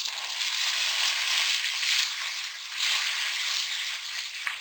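Ginger garlic paste frying in a pan with onions cooked to light golden, a steady loud sizzle with soft stirring scrapes, close up and without talking.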